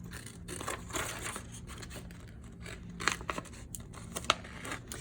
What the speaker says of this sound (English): So I'm just gonna cut out the polar bear feet.